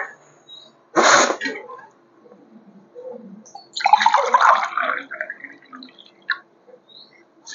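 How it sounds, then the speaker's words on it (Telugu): Water poured from a glass onto jaggery in a pot for puffed-rice laddus lands in two short splashing bursts, close by, with faint drips and quiet between them. "ఒక 3 గ్లాసుల వాటర్ వేసుకుందాము."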